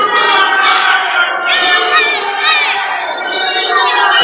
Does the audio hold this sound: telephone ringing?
no